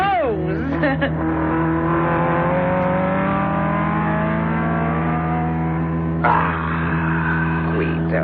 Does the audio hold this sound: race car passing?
yes